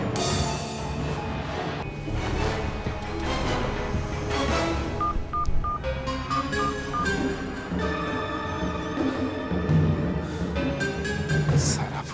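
A short run of electronic keypad beeps, like phone dialing tones, sounds partway through, partly buried under continuous busy music.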